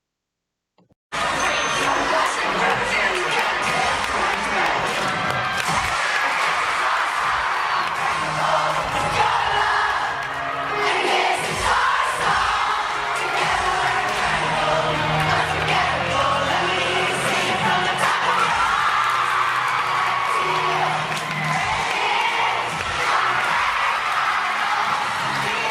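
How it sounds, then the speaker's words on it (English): An audience at a competitive cheerleading event yells, whoops and cheers throughout a Senior Elite team's routine, shouting calls and singing along. The dense, loud crowd noise runs without a break after a brief silent start. "The crowd is interacting with the system by yelling hit and pull during the jump section, as well as singing the lyrics."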